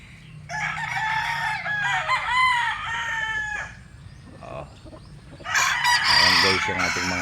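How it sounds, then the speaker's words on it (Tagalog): Pet chickens with a rooster crowing loudly twice, long drawn-out calls close by, separated by softer clucking and low background rumble. "Ayan guys yung ating mga alagang manok."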